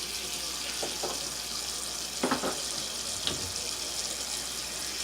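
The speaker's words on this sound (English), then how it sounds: "Gonna add water." Water pours steadily into a crock pot over a roast, a continuous close splashing rush with a few faint clinks, and no talk.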